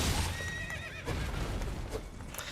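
Torrent, the spectral steed in the video game Elden Ring, gives a clear high whinny over hoofbeats and game noise, near and fairly loud.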